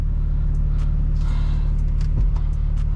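A BMW M2 rumbles with a deep, steady engine drone heard from inside the car while driving, with faint clicks and road noise above the low hum.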